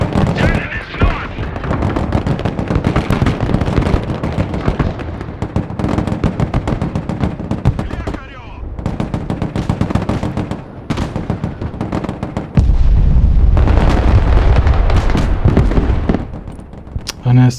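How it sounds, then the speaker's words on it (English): Gunfire and artillery fire in the Broken Arrow strategy game, Russian campaign on hardest difficulty in the Blackout mission: dense, continuous bursts of shots and heavy booms run loud throughout, with a deeper rumbling barrage in the final seconds. "We're under fire."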